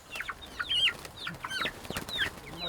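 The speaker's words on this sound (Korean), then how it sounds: "이번엔 양계장하는 후배에게 덥석 닭을 받아왔다" Young chickens from a poultry farm cluck and chirp in short, high repeated calls close by, several birds overlapping in a quiet indoor setting.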